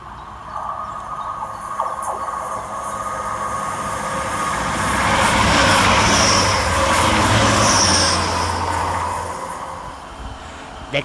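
A Grand Central Class 180 diesel multiple unit passes through Adwick railway station, a loud rushing roar with engine drone that swells to a peak mid-pass and then fades as the train moves away.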